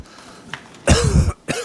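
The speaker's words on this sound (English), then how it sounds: "you cough into this envelope because it has convenient air holes" A few sharp, close coughs, a faint one followed by a loud burst and a final short cough, with no talk over them.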